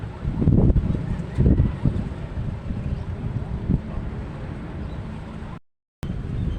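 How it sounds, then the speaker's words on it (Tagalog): Strong wind roars and buffets the microphone in loud gusts, with a brief cut to silence near the end. "Lakas po ng hangin."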